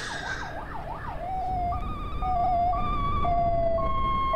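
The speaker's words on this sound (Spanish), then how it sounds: "¿Y esa sirena y todo?" An emergency vehicle siren in the video game Accident wails, starting with a fast rising-and-falling yelp and then shifting to a steady two-tone alternating pattern. It is loud and sounds alone.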